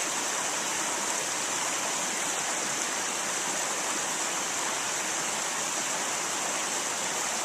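River stream rushing through Smithfield Canyon, Utah, in freezing weather, a steady broadband wash of flowing water, close and continuous with no talking.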